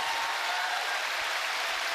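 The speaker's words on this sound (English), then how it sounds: "they just heard your cheering" A large audience at a Final Fantasy XIV fan festival keynote in London applauds and cheers, a dense, continuous wash of clapping filling the hall at steady loudness with no individual voices standing out.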